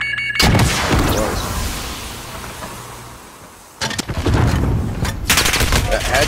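M4 Kilo assault rifle fire in a first-person shooter game: a loud burst of rapid shots at the start, a fading lull, then more sharp bursts in the second half.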